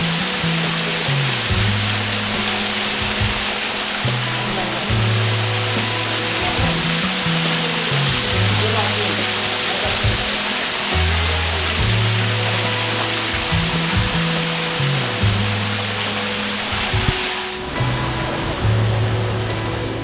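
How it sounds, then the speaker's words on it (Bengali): Loud, unbroken rush of water pouring down at Wei Sawdong Falls in Meghalaya, a dense close roar with a faint low hum under it and no speech. "এই ওয়াটারফলের জলটা এখান থেকে এসে নিচ দিয়ে চলে যাচ্ছে ওইদিকে।"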